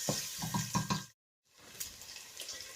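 Chopped onions frying in a pan for mushroom risotto, a close crackling sizzle with a few stirring scrapes, briefly cut to silence before the sizzle resumes.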